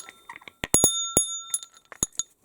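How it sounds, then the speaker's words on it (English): An old bell rings several times in irregular, bright metallic strikes with sustained high overtones, close and clear, separated by short quiet gaps and softer clinks as it is handled. "we did get this absolutely stunning looking bell."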